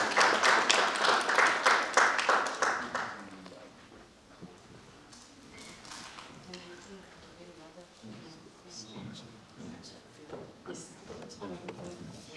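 An audience at the African Leadership Media launch event gives a round of hearty clapping that lasts about three seconds and then fades. Scattered taps follow while a speaker talks over the quieter room.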